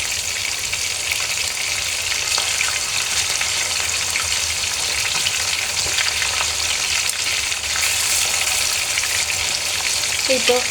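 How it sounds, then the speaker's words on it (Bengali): Chicken pieces deep-frying in hot oil in a wok, a steady loud bubbling sizzle that holds evenly throughout with occasional crackles and no talk. "তো এটাকে ডুবো তেলে ভেজে নেব একদম"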